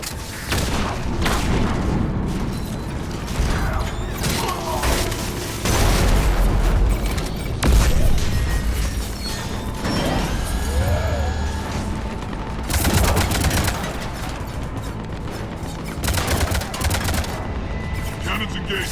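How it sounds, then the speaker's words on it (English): Cannons arm and open fire in Mass Effect 3, heavy booms and rapid gunfire layered over a constant battle din, with bursts recurring through the stretch and voices talking beneath the action. "Cannons engaged."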